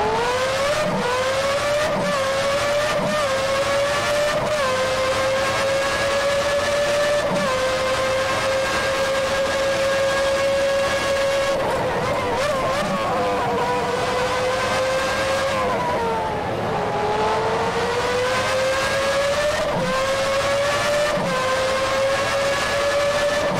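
McLaren MP4/5B 1990 Formula race car in the rFactor 2 video game, a loud high-pitched engine whine held at speed with pitch dips during hard braking and downshifts, continuous and close for over twenty seconds.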